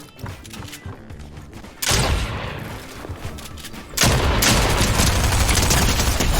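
Heavy, dense gunfire in Fortnite arrives in two loud stretches, a sustained barrage of overlapping shots that starts abruptly and then grows louder and fuller, with no talking over it.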